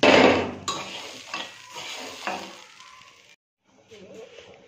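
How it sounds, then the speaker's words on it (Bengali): Dal and rice fry in a pan for khichuri while being stirred, a loud sizzle at the start easing into softer scraping stir strokes and clinks of utensils, up close, with a short quiet gap near the end. "এর মধ্যে এবার আমি এটাকে ভালো করে আর একটু নাড়াচাড়া দিয়ে ফুটে দেব।"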